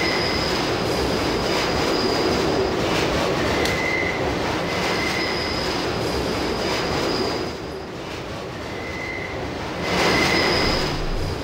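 A subway train in the video game Deus Ex rumbles loudly and continuously, with squealing wheels and brief high whines rising and falling over the steady roar, no voices.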